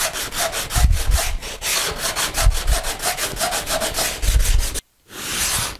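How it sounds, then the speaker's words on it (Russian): Sandpaper rubbing back and forth over the tail section of a model aircraft float, a steady rasping scrape in rhythmic strokes, close and loud, with a brief pause near the end before it resumes. "Берем наждачку и выравниваем поверхность так, чтобы нигде выступающих"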